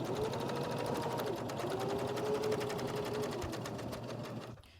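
A sewing machine stitching fabric pieces for a Christmas tree ornament, a fast steady mechanical whir running loud and close before stopping at the end.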